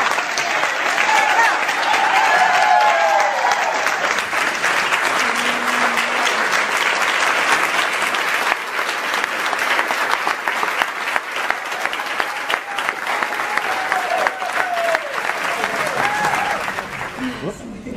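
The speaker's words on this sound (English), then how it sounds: "Now you can applaud." A theatre audience at a tribute event breaks into sustained, dense applause that carries on for the full stretch, with scattered cheers and murmuring voices mixed into the clapping.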